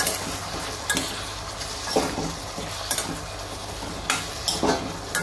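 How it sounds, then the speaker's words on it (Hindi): Chopped dates go into green tomato chutney cooking in a pan, giving a soft steady sizzle with a few stirring scrapes and light clinks of a spoon against the pan at irregular intervals. "अभी दोस्तों इसमें 3-4 हम खजूर भी डाल देंगे"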